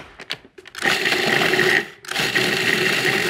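A food processor pulsing graham cracker crumbs with chilled butter cut into small pieces, two whirring bursts of motor grinding separated by a short pause, preceded by a few light clicks.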